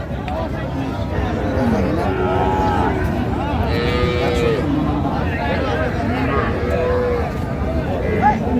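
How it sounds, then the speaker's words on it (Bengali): Cattle low and moo at a busy rural livestock market where cows with calves are sold, with traders bargaining over steady crowd chatter; several drawn-out calls rise over the background talk. "গাভী বাছুর আমরা দেখছিলাম এখানে"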